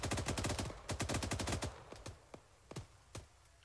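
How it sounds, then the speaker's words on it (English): Suppressing fire in Arma 3: rapid bursts of automatic gunfire give way to a few spaced single shots that grow quieter, with crisp, sharp reports. "Might want to give some suppressing fire over there."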